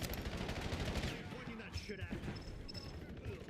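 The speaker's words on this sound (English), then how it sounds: "Someone's like spamming pinpoint grenades." Pinpoint grenades bursting repeatedly in Black Ops 7 multiplayer, a dense run of sharp blasts and crackling gunfire at the start that thins into scattered pops, with a voice talking over the din.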